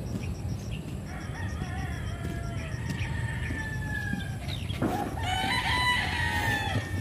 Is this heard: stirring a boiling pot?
no